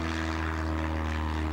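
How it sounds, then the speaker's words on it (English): A propeller airplane drones steadily in flight, a loud, continuous engine hum with strong low tones and no break, heard alone. "He's flying that plane."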